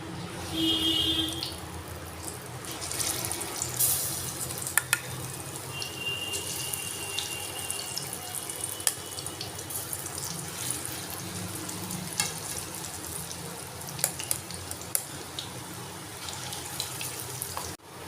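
Curry leaf pakoras deep frying in oil, a continuous bubbling, hissing sizzle that holds steady and close for a long stretch with occasional clinks, no talking.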